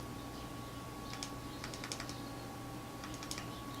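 Small plastic fire and adjust buttons on a Voopoo Drag 2 vape mod clicked in quick bursts of three, close and crisp over a steady low hum, with no talking.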